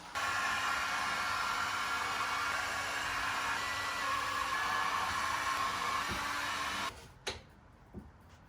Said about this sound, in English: I think it might benefit from some heat, so I'll get the heat gun.